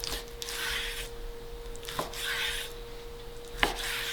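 A knife slicing raw chicken across the grain on a board, three distinct cutting strokes with soft scraping between them, heard close and alone against a faint steady hum.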